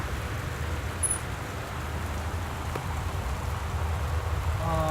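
Steady rain pours down outside a house in the game Gone Home, a dense continuous hiss with a faint chirp early on and a slight swell toward the end, with no voices.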